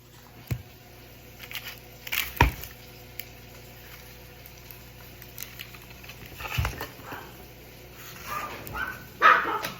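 A dog barks and yips a few times in a home kitchen, short sharp sounds spaced apart amid light patter and clatter, moderately close with no talking.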